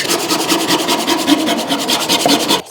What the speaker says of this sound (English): So I'm gonna cut this whole piece by hand saw.